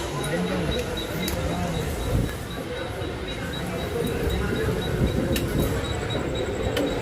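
Siddheshwar Express running at speed with another train passing alongside, a continuous rumbling rail roar with faint clicks and rattles, while someone talks over it.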